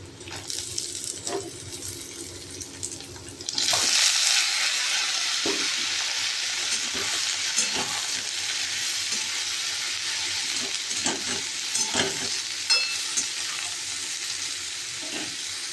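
Potatoes and ridge gourd drop into a pan of frying onions; after a quiet start with a few clinks, a loud hiss of sizzling oil starts suddenly and runs steadily, with stirring scrapes and taps and no talk.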